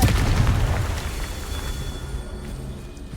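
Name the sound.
Confringo fire-blast spell exploding in Hogwarts Legacy video game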